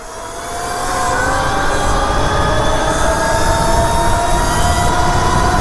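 An electric ride-on vehicle on a full charge, in its third mode, accelerates at full throttle, a loud, steady motor whine rising in pitch with rushing wind noise, up close.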